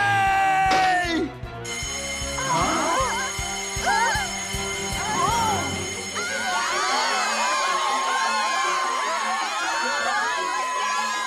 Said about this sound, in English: Nagasawa pushed the emergency button